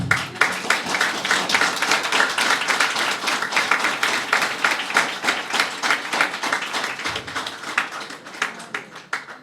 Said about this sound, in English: That clap is not good enough.